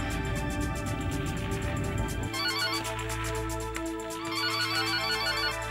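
A ringtone plays as a phone call is placed, a repeating electronic melody with a clear tonal pattern that continues throughout and changes partway through, playing alone without talk.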